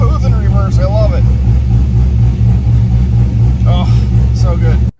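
A Chevrolet C5 Corvette backs up smoothly after a transmission fluid change, its engine humming steadily and close at a mid pitch, while a voice speaks briefly over it near the start and end.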